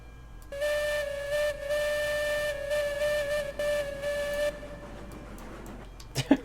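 Steam locomotive whistle in the Railroads Online railway game, sounded in short blasts: a long steady tone broken by brief gaps, then cutting off, followed by faint clanks and a few sharp knocks.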